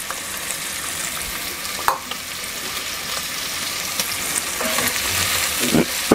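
Onions and chorizo fry with bacon in a Dutch oven, a steady close sizzle with a few scraping stirs.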